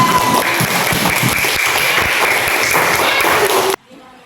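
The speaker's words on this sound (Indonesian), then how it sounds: "Kasih tepuk tangan untuk Mbak Rizkia" Students applaud a classmate in a school classroom with a loud, dense burst of clapping that holds steady for several seconds, mixed with a few voices, then cuts off abruptly.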